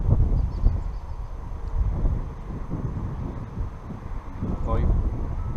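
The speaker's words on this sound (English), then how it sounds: "the wind's picked up" Wind gusting across an open field of wet grass on a farm, rumbling and buffeting the microphone continuously and fairly loud, with a voice speaking over it.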